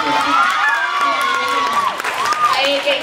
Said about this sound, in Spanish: Un aplauso para Santi Ponte